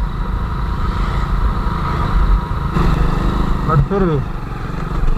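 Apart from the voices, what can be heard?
old Hero Splendor motorcycle engine running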